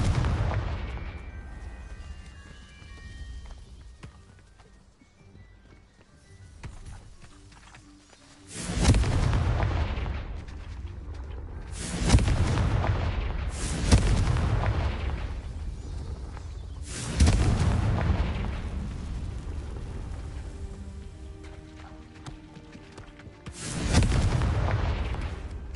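Fiery explosions from the Confringo blast spell in the video game Hogwarts Legacy, several loud booming bursts spaced a few seconds apart over a low rumbling background, with no talking.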